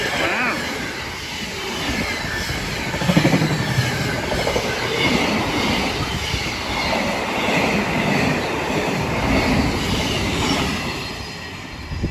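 A long container freight train rolls past nearby, steady heavy rumble with rhythmic wheel clatter and occasional metallic squeal.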